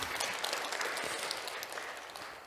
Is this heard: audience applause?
yes